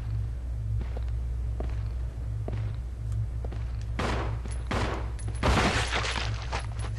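Bursts of gunfire in the video game Resident Evil Zero: scattered single shots early, then heavier louder volleys near the end over a low rumble.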